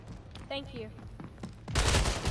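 Gunfire in the Splitgate arena shooter: a dense, loud burst of rapid shots erupts in the last half-second, following quieter game sounds and a brief tonal effect.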